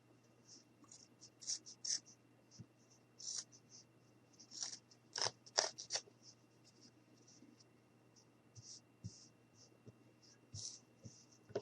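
Scissors cutting fabric while crafting a pincushion gnome: quiet, close snips come in short irregular bursts, some in quick clusters, over a faint steady hum.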